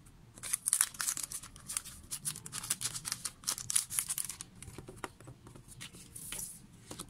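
Crinkly plastic and paper rustling and tearing as K-pop pre-order photo card packaging is opened by hand, close and busy with irregular handling sounds throughout.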